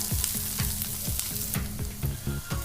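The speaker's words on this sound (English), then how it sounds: "So you will saute this for around 2 minutes before you add the sauces." Onions and capsicum sauté in a pan for cashew chicken, a constant close sizzle broken by rhythmic scraping strokes of a spatula roughly every half second.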